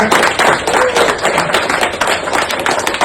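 A crowd at a home gathering breaks into loud, sustained applause, with dense overlapping claps filling the whole moment close by.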